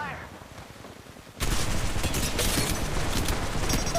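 Sustained rapid gunfire from an Apex Legends Mobile firefight bursts in suddenly after a quieter stretch, dense volleys of shots continuing loudly and close to the end.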